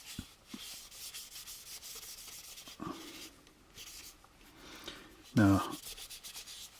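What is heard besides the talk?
wiping dust off a model kit with a rag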